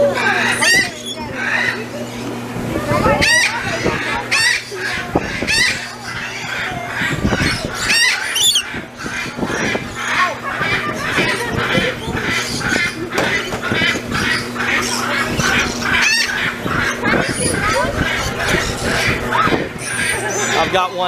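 Birds screech and squawk in a noisy scramble while fighting over nectar at Busch Gardens in Tampa, Florida, with repeated sharp calls close by, a steady background hum and people talking throughout.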